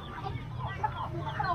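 A chicken clucks at a busy Vietnamese market in Phục Hòa, Cao Bằng, on market day, with short bursts of clucking close by over general market murmur.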